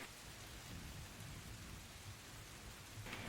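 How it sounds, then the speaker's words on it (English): A storm with steady heavy rain pattering on surfaces and a low rolling thunder rumble underneath, continuous and enveloping, with no talking. "You hear the rumbling of thunder."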